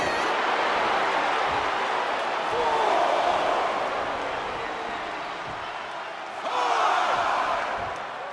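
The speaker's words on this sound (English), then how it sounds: "And Rhea is revving this crowd up." Arena crowd noise from WWE 2K24 wrestling, a steady loud roar that swells twice into louder cheering, with thuds underneath and no talking.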